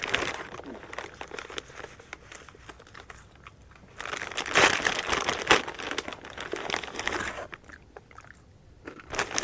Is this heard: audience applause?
no